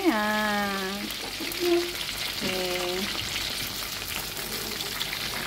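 Crab sizzles as it fries in a pan for a sweet and sour crab dish, a steady loud hiss with a voice talking over the start.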